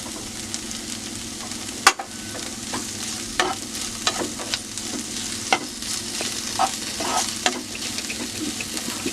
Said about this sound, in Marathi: साधारण 2 ते 3 मिनिटं फक्त आपल्याला परतून घ्यायचं आहे।